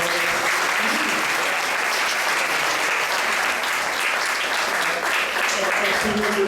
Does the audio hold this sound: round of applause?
yes